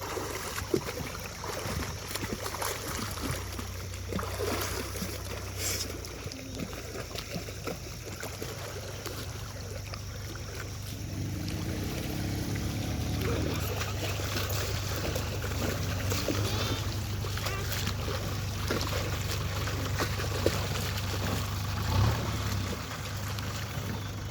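Water rushes steadily along the left irrigation canal, a continuous broad wash of flow with a low hum underneath and no pauses, and no voices.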